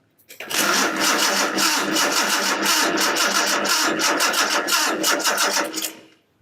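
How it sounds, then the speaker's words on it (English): A 1976 Datsun 280Z engine cranks over continuously on the starter for about five seconds with a steady, loud, rapid churning rhythm that does not catch, then stops. "I'll crank the engine over, and we'll see if this flashes"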